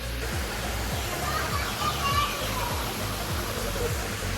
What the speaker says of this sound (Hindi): देखो झरना, सेकंड झरना है ये रॉक गार्डन का